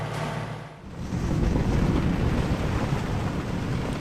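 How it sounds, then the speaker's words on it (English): Wind gusts steadily at sea, buffeting the microphone on a sailboat with its sails reefed after a rain squall, a broad roaring rush that grows louder after a brief lull, with waves washing beneath it. "the wind is weird as usual."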